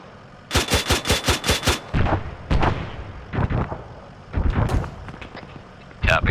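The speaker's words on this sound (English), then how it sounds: "This sounds like we're getting shot from the west." Gunfire in the Arma 3 video game: a rapid automatic burst of about seven shots, followed by scattered single and double cracks with echoing tails, fairly close and sharp.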